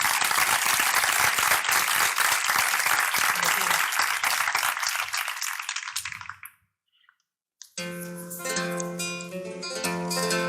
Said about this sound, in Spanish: Un fuerte aplauso a este guitarrista